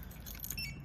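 A brief, faint jingle of a car key ring with an LCD remote fob, a quick metallic rattle close by.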